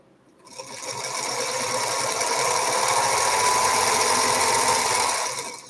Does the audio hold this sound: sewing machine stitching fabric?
yes